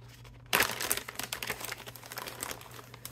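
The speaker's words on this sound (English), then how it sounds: "So I keep everything in this, in just Ziploc bags" A plastic Ziploc bag crinkles close up, with a sudden loud start followed by steady, busy rustling and crackling that continues throughout, and no voices.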